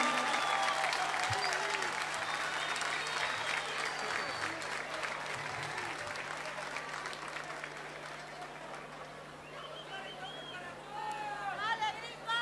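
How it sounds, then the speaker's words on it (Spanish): A large crowd at a live concert in Buenos Aires claps steadily in a dense, sustained wash of applause, with voices murmuring underneath and a few whistles rising near the end. "Fuerte ese aplauso para estos grandes amigos"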